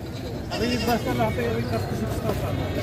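Goats bleat at a livestock market in Padre Garcia, Batangas, with wavering calls rising over the murmur of people talking nearby.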